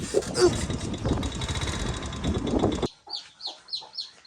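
An engine rumbles, then cuts away to farm chickens clucking in short repeated calls close by.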